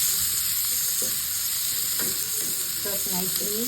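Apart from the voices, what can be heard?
garlic and onion frying for chicken sisig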